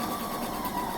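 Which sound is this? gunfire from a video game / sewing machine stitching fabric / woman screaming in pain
sewing machine stitching fabric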